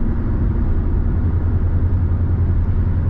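A 1992 Renault 21 Manager turbo diesel car engine rumbles steadily and loudly from inside the cabin, a continuous low drone at around 2000 to 2500 rpm while accelerating on the road.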